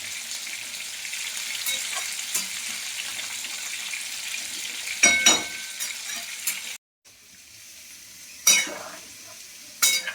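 Pointed gourd and potato curry is stirred in a pan after water is added, a low simmering sizzle with scraping spoon strokes and a few louder clanks against the pot, briefly cutting out once.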